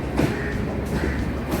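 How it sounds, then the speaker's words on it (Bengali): A train pulling out of Ernakulam Junction toward Trivandrum gives a steady, loud rolling rumble with faint rail clatter, heard continuously from on board or close by, with no speech. "ট্রেনটি ছেড়ে এখন ত্রিবান্দমের দিকে যাচ্ছে"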